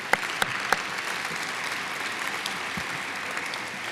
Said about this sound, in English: Round of applause for you two as well.